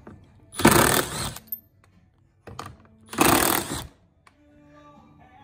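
A 10mm socket tool runs in two short mechanical bursts while removing the deck screws on a Sea-Doo Spark personal watercraft. The whirring is close and loud with a quiet gap between the bursts and a few small knocks.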